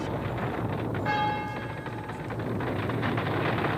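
Church bells ringing out across San Francisco on the morning of the 1906 earthquake, a faint distant peal with a brief bright cluster of bell tones over a low background rumble.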